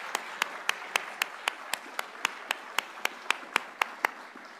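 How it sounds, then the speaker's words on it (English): At a scholarships and awards celebration, the audience claps in unison in a steady, evenly spaced rhythm of about fifteen sharp beats over a soft background of scattered applause. "Are we ready for another clap?"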